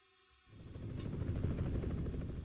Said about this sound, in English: There's a helicopter in the sky.